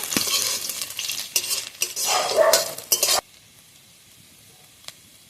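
Chopped ginger sizzles in hot oil with dried chillies while a spatula stirs and scrapes the pan, loud and close for three seconds before cutting to near silence and one faint clink.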